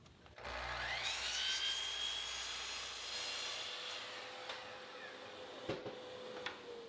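A miter saw cross-cuts birch plywood parts to length: the motor spins up into a rising whine and a steady loud cutting roar, then winds down with a few clicks.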